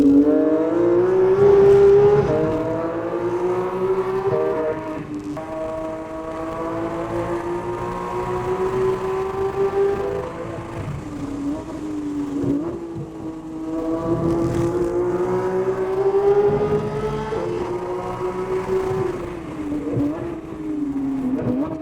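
A car corners hard on a race track on Hoosier Track Attack Pro tires, its engine droning close by for over twenty seconds, pitch rising and falling repeatedly as it works through the turns.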